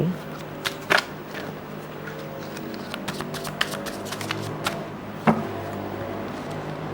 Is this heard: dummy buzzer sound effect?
no